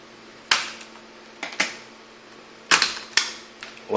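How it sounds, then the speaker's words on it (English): Sharp, isolated clicks and clacks ring out at irregular intervals, close and fairly loud over a quiet background, as screws come out of an Acer Aspire One laptop being taken apart. "Remove all the screws that you can see around."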